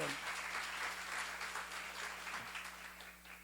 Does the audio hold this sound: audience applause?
yes